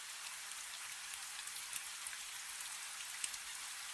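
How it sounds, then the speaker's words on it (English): Steady rain falling on a roof, a dense, even hiss of countless drops with occasional sharper taps, continuous and fairly soft throughout. "And the rain on the roof is only the rain"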